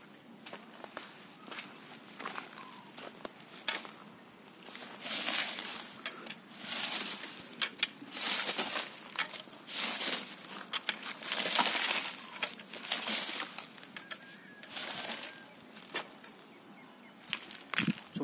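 A manual weeder is pushed through dry, dusty ploughed field soil near Melur in Madurai district, making repeated close scraping, gritty rustling bursts with an uneven rhythm, like dragging footsteps and bits of clinking grit.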